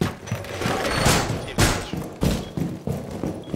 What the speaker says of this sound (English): He shot me, so I shot him.